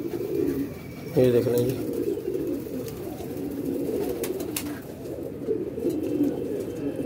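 Pigeons, breeding pairs kept as flying birds, coo in low rolling calls, one clear burst early and softer cooing throughout, while someone talks briefly nearby.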